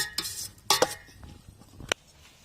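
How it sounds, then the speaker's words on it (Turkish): Dry beans being sautéed in a pot, stirred with a metal spoon that gives a few sharp scraping clinks against the pot over a faint low sizzle, short and close. "Bir 3-4 dakika kadar da kuru fasulyemizi bu vaziyette kavurmaya devam edeceğiz."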